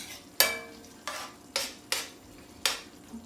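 Pasta sauce seasoned with black pepper cooks in a pan, with a soft steady sizzle broken by five scraping stirs spaced about half a second apart, close by and with no voices.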